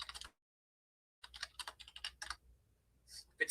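Quick, light clicking of keys being typed on a computer keyboard, close and fairly quiet, in short irregular bursts after a brief pause.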